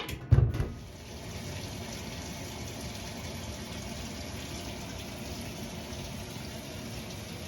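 A washing machine filling with hot water for a load of towels with baking soda, a brief clunk at the start followed by a steady, even rush of water flowing in.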